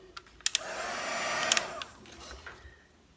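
Heat tool blowing over stamped embossing powder to melt it, a steady whooshing blower hum with a few sharp clicks and knocks, fading toward the end.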